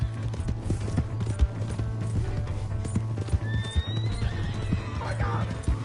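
In the Red Dead Redemption 2 game on PS4, a horse's hooves clip-clop in a steady rhythm over a low rumble, and a rising whinny cuts in near the end.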